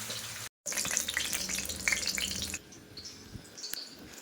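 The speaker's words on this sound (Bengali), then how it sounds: "এই উপরে এখন মাছ ভাজা করছি" Fish fries in a pan with a bright, busy crackle and spitting sizzle close by, briefly dropping out and then continuing more softly, with no voices over it.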